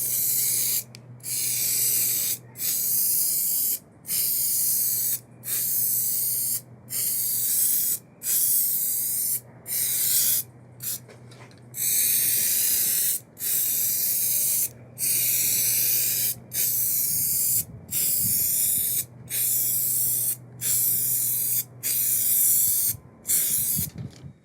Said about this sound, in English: this stuff sprays really well right out of the can